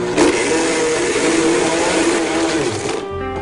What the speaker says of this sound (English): I knew I could get the iPad in a BlendTec Total Blender.